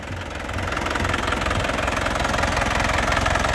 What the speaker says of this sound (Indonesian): Jadi kalau mobil sehat suaranya seperti ini lur.